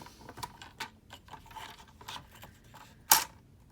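Craft board being cut into small squares for journal charms gives soft irregular clicks and snips, fairly quiet, ending in one sharper louder cut near the end, with no talk.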